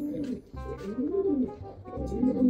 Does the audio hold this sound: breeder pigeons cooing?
yes